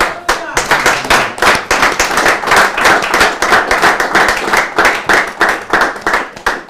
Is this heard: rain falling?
no